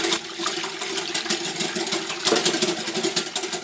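Milk is whisked fast in a bowl for a mini chocolate cake batter, making a rapid, busy clatter and swish that runs continuously and close by, with no speech.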